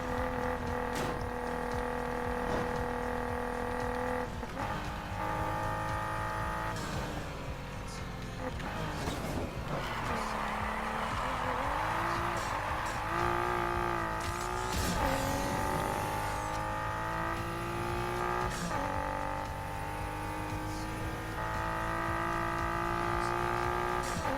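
A car engine in the video game Need for Speed Heat roars steadily, with its pitch rising and falling as the revs shift and tires hiss beneath it.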